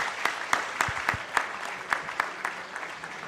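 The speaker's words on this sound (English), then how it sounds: "Let's round of applause for everyone" Applause from an audience at a startup launch event in a hall: sparse, separate claps ring out at an irregular pace, fairly quiet and close, with no talk over them.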